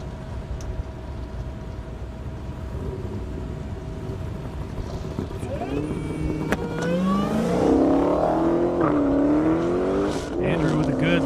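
Drag cars launch at an airstrip drag race, a supercharged Mustang against a Mopar. A loud engine drone builds as the cars rev and accelerate hard, with rising engine pitch and a possible tire squeal. A commentator talks over the sound.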